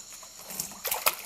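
An anaconda is lowered into water, producing a few quick, light splashes and sloshes that build toward the end, fairly close but not loud, with no talking.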